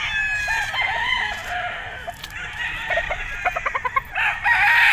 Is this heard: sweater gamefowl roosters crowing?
yes